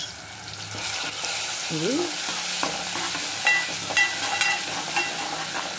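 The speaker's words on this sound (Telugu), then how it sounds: "కొంచెం ఉల్లిగడ్డ మళ్ళీ కొంచెం ఫ్రై చేసుకోవాలి" Onion fries in a pan for fish curry, giving a steady sizzle with stirring scrapes and light clinks of a utensil against the pan, and a brief spoken word partway through.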